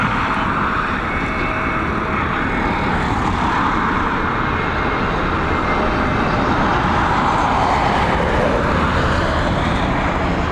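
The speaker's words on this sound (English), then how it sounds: "just in time to catch a touchdown of our next arrival" An Aer Lingus airliner touches down at Dublin Airport, a continuous, loud, broad engine and roll-out roar that holds steady throughout with no talk.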